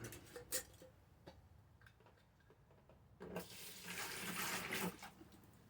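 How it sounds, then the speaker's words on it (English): Corn liquor, moonshine, poured from jars into a container, a quiet gurgling splash that swells into a steady pour near the end, with faint ticking earlier. "So we're going to go ahead and start filling her up."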